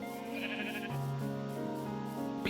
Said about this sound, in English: we've got the sheep here